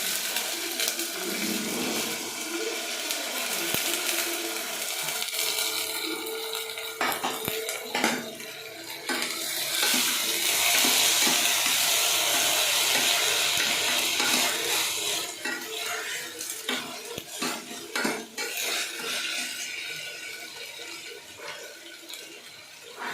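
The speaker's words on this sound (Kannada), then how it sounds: "ಅದಾದಮೇಲೆ ಕಾಳು ಸ್ವಲ್ಪ ಹಾಕಿ ಫ್ರೈ ಮಾಡಬೇಕು" Sprouted legumes frying in oil for saaru, a soft crackling sizzle mixed with metallic scraping and clinking of a spoon against the pan, rising in places and carrying on at moderate loudness.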